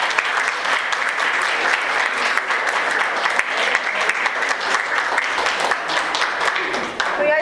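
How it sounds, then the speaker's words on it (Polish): An audience at a Polish cultural event gives sustained, dense applause, many hands clapping steadily and loudly throughout with no pauses. "Ogromny brawo!"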